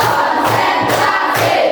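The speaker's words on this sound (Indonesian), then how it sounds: "tepuk satu, tepuk dua, tepuk tiga, tepuk empat" A classroom of students claps in a counted rhythm, sharp group claps at an even pace while many young voices chant along together.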